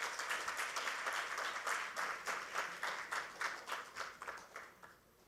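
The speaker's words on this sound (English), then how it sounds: "Can we have a huge round of applause for all our panelists," An audience at a panel discussion claps in a steady burst of applause that fades out gradually toward the end.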